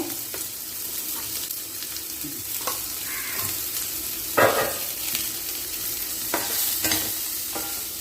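Vegetables with grated coconut, turmeric and salt fry in a pan, a soft steady sizzle broken by a few scraping stirs, one louder clatter in the middle.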